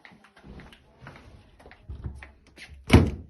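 A locked door is tried and rattled, with soft handling knocks leading up to one loud thump near the end.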